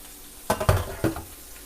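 Shrimp cooking in a hot pan give a short burst of sizzling, with a few sharp clattering stirs close by and no talking.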